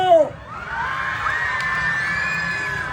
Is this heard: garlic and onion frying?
no